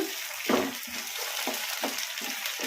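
Tomatoes frying with onions in a pan over a medium flame, a steady close sizzle broken by several soft scraping stirs of a spoon, no talk.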